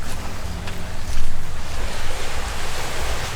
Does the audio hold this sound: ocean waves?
yes